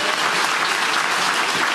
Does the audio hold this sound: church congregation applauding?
yes